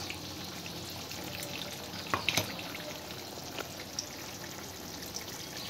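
Coriander soaking water poured into chicken cooking in a pan, a steady hissing sizzle with faint splashing and a few small clinks, moderately quiet and without talk.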